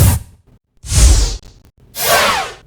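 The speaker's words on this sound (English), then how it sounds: "the processed files of the Yogamat zippies, and they're just layered in with those other big whooshes to add some weight" Processed yoga mat zip whooshes, layered with heavier whooshes and Doppler movement for a Formula 1 passby sound design, sweep past in three bursts, the first short, the second and third long and full.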